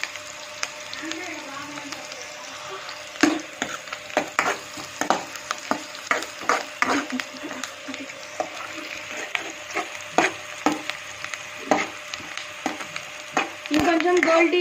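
Onions frying over high heat in a pan for a prawn curry, a steady close sizzle broken by repeated scraping stir strokes, with a voice talking over much of it.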